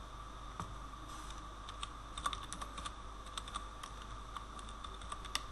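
Steady typing on a computer keyboard while entering a database table, a continuous run of close, light key clicks with a few sharper taps and no talk.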